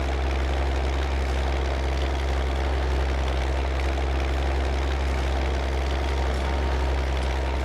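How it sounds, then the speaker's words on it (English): A tractor in Farming Simulator 19 drives along, its engine a steady, loud, unbroken drone with a deep low hum throughout and no talking. "and I drive the tractor down this side."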